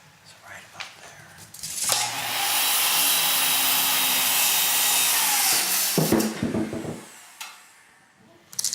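A wooden railing post is cut off with a saw that grinds steadily for about five seconds, preceded and followed by brief knocks and handling noises.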